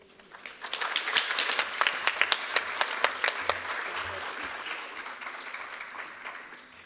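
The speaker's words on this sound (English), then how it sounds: "Let's have another round of applause for all of our presenters." A school audience at a South Side High School TED Ed night applauds its student presenters, the clapping swelling quickly with a few sharp, distinct claps standing out near the front before thinning and fading.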